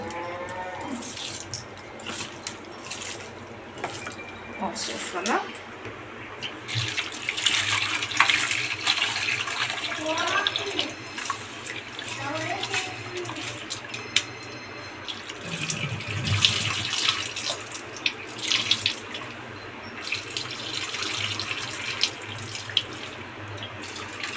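Raw prawns rinsed under a running kitchen tap, water splashing and trickling steadily for the whole stretch, with scattered clinks and movement over a broadband wash of noise and no talk.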